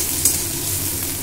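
Onions fry lightly in a pan over a medium flame, a brief close, steady sizzle with a soft stirring scrape.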